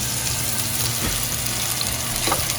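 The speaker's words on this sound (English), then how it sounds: "now we're gonna go with the steak, because the oil is already hot" A T-bone steak sears in hot oil, making a dense, steady sizzle close to the pan throughout, with no pauses.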